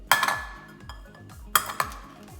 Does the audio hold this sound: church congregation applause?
no